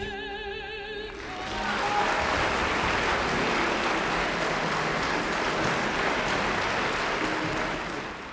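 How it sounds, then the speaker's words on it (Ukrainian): An audience breaks into a sustained storm of applause after a prima donna's song at a concert, swelling after a brief musical ending and staying loud and dense throughout. "кожен твір, який виконується примадонною, супроводжується шквалом овацій"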